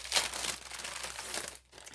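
Plastic comic book bag crinkling and rustling as it is handled up close, a continuous crackle with brighter bursts near the start and middle, then a brief near-silent pause before more crinkling.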